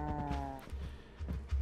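Minecraft cows moo in short, low, drawn-out calls, several overlapping lows sounding close by with game ambience around them and no talk.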